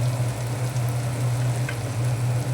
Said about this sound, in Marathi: हळद टाकल्यावर थोडं परतवून घ्यायचं आहे, जेणेकरून पूर्ण कांद्याला ती हळद लागू शकेल